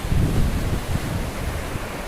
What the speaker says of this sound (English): nice pretty little creek early here in the morning